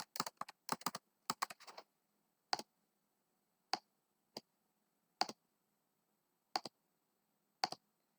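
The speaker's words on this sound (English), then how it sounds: "I am going to go ahead and type that all in the calculator" Calculator keys being pressed to enter numbers, a quick burst of crisp clicks followed by single, evenly spaced taps, close and quiet with no talking.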